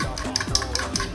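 Quick, rhythmic whisking of meringue by hand, a utensil beating steadily against a bowl in a fast repeating pattern.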